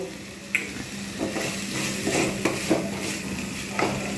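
A spoon stirring a hilsa fish head and taro greens curry in a pan, seasoned with salt and sugar, with several distinct scraping knocks against the pot over a soft background sizzle.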